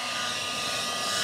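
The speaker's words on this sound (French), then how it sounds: "tu es en train de sécher la peinture avec le sèche-cheveux" A hair dryer blows hot air over freshly painted black car trim parts, a loud, steady, continuous whoosh with no pauses.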